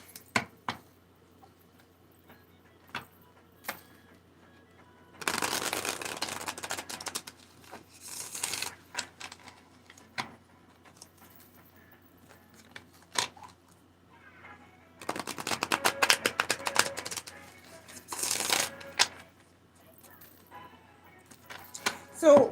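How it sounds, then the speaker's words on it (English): A brand-new tarot deck being shuffled by hand, giving bursts of dry crisp card riffling and slapping in two main runs, with scattered single taps and quiet gaps between. "because it's a new deck, so it needs to really be shuffled"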